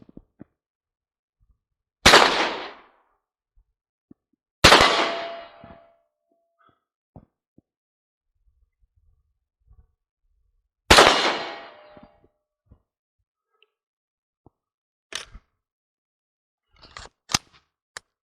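An Alkan Arms 818A1e shotgun, tested while caked in mud, fires three loud, sharp blasts spaced several seconds apart, each with a short ringing tail, followed by a few fainter metallic clicks and clacks of the action between shots.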